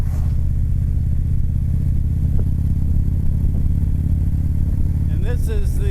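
Harley-Davidson motorcycle exhaust burbling steadily at low revs throughout, a deep continuous rumble close by, with a brief higher engine sweep near the end as the bike moves along a road.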